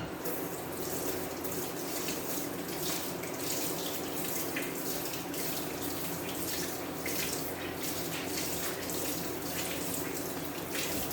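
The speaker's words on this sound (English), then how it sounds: "So I'm going to run it under the water and wring the excess water out" A 6-inch foam paint roller is rinsed under a running kitchen tap, and the water gushes steadily and loudly throughout with no break.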